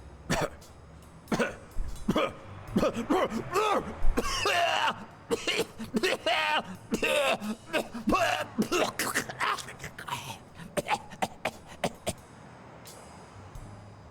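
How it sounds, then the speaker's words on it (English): A character coughs in the video game Blacksad: Under the Skin, giving a long run of harsh, hacking coughs and throat-clearing bursts, close and loud, in quick irregular fits with short pauses between them. "You've got one nasty cough."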